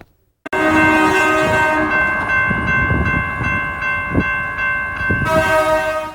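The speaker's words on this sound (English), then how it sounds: "The trains that run through Fort Collins are a constant source of frustration for the residents here." A freight train passing through Fort Collins, a loud steady rumble and rattle of rail cars close by, with a long blaring horn at the start and again at the end.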